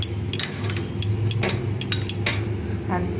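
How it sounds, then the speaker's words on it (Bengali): Spices mixed with water being stirred into a paste in a metal pot, repeated bright clinks and scrapes of a spoon against the metal over a steady low background hum, close and clear. "এটা ভালো করে নাড়িয়ে নেবো, ভালো করে একদম পুরো পেস্ট করে নেবো সুন্দরভাবে"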